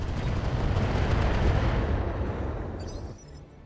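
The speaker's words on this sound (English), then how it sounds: "And lob a few LRMs. Go ahead and fire." A volley of LRM missiles launching in RogueTech, the BattleTech mod game, a heavy rumbling barrage of blasts and whooshes that swells loud for a few seconds and then tapers off.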